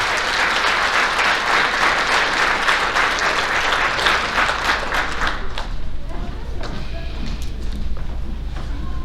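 Audience at a school athletic banquet applauding young female athletes, a loud burst of many hands clapping that fades after about five seconds into quieter room noise.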